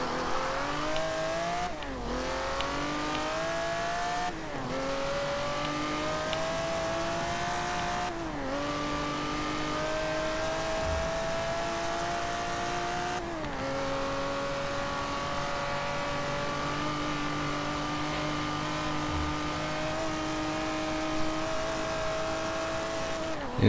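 Race car engine in the racing game Forza Motorsport 7 revving up through the gears again and again, each climb ending in a sharp drop at the shift, loud and continuous with no talking.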